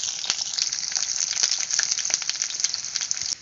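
Onion and potato fry in hot oil in a pan, a dense, continuous crackling sizzle with quick pops, close and steady, cutting off just before the end.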